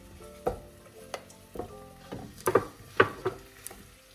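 Chicken, vegetables and onion cooking in a pan on an electric hob, heard as a series of separate scraping and stirring strokes over a faint background sizzle, moderately close, with no talk.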